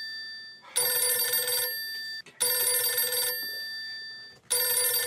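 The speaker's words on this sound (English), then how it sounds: "The phone's ringing." A telephone bell rings indoors in three long, loud bursts separated by short pauses, with no talking.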